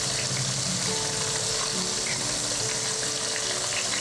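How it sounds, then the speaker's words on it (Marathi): Battered vegetarian pieces deep-frying gently in hot oil give a steady, close sizzle that holds evenly throughout, with no voices. "इथे पण तळताना हलक्या हाताने तुम्ही एकदम तळता."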